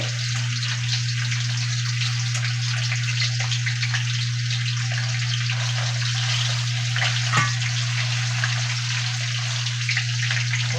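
Bones, meat and onion frying in oil in a pan, a steady close crackling sizzle that runs on evenly throughout over a constant low hum, with no talk.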